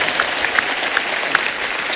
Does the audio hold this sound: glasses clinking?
no